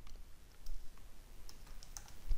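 Soft, quick clicks of typing on a computer keyboard, a quiet run of keystrokes alone with no talk.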